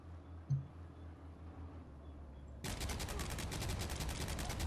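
Heavy gunfire in the WWII shooter Heroes & Generals, a quiet ambient stretch broken by one faint thump before a loud, sustained rapid burst of automatic fire crashes in for the remaining seconds.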